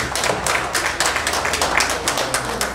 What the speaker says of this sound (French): je vous demande de bien vouloir vous